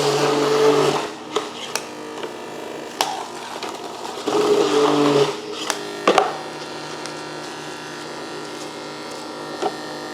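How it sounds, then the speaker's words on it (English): A Goodnature Hummingbird juice press grinder spins nonstop with a steady motor whine, broken by rougher grinding bursts and sharp clacks as produce is fed through, close and fairly loud. "Hummingbird, the grinder just spins continuously"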